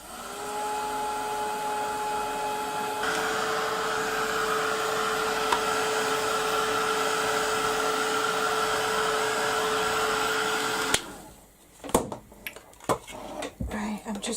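A hair dryer blows steadily for about eleven seconds to dry paint on a mixed media craft project, then cuts off, followed by light clatter and handling sounds.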